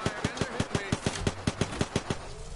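Rapid automatic gunfire in a battle royale video game, a steady burst of about a dozen sharp, evenly spaced shots ringing out loud and close with no talking over it.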